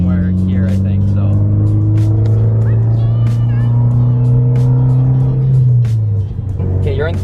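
A Mitsubishi Evo X drives with its engine droning loudly at steady revs, then easing off near the end, with sharp exhaust pops and crackles punctuating the run while people talk inside the car.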